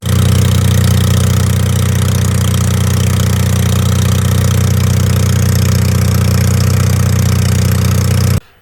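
A gasoline engine on its carburetor with no muffler, running under load, drones loud and steady at an even idle-like pace for about eight seconds before cutting off abruptly.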